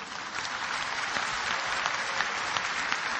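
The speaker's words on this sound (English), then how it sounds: "MashaAllah, you're clapping" An audience claps steadily through a talk on religion, a dense, even wash of many hands that stays loud from start to finish with no voices over it.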